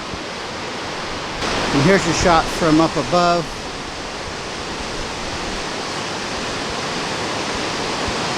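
A waterfall torrent near Baie-Comeau, Quebec roars as a loud, steady rushing wash of water throughout, with someone briefly talking over it early on.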